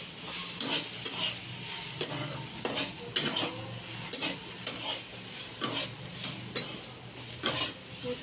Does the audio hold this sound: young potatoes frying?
yes